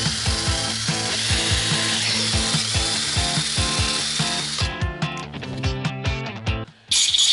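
A power drill bores into a part during a garage repair of an automatic transmission on a BMW, with repeated rapid grinding, ratcheting bursts and rhythmic pulses, close and fairly loud, ending in a brief pause and then a short final burst.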